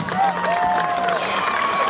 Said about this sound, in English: give a round of applause for your Marching Mustangs